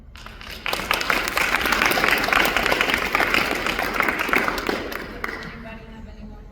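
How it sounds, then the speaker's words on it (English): An audience at a university women's defense seminar applauds its panelists, a full round of clapping that swells in and holds steady before tapering off, with some voices underneath. "Let's give another round of applause."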